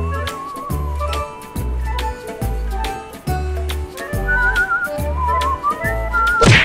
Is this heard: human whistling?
yes